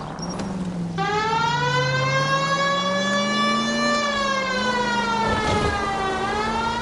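A steady police car siren in a video game (L.A. Noire) wails continuously, its pitch slowly rising and falling, loud and close, with no talking over it.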